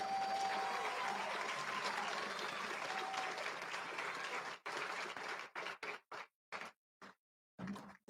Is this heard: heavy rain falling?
no